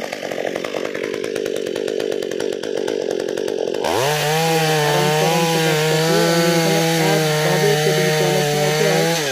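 A small chainsaw cuts into a tall tree of about 60 to 65 feet, first with a rough rattling idle, then revving into a loud, steady high-pitched whine as the chain bites and holds through the cut.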